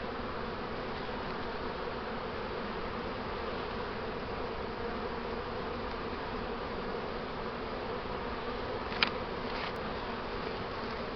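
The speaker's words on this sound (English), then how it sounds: "Busy bees are content bees." Honeybees hum steadily around an open hive during a beekeeping inspection, a dense continuous buzzing drone at even loudness, with one brief tick near the end.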